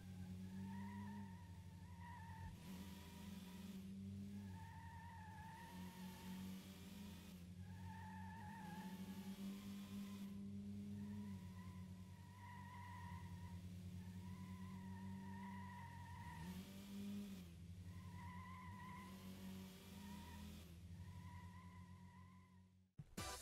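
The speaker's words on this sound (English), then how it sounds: "play an entire race listening to the droning sound of the engines" Steady droning of racing car engines in the Dreamcast game Metropolis Street Racer, a continuous tonal whine that rises and drops with gear changes through a whole stretch of driving, with no music or talk.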